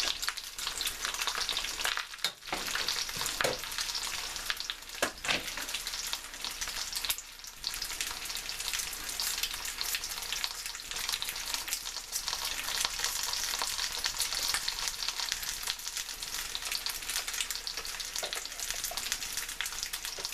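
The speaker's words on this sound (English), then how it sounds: "I'm going to add the rest of the seitan back to the pan." Pieces of seitan fry in oil in a pan, giving a steady, close, continuous sizzle and crackle with occasional stirring scrapes throughout.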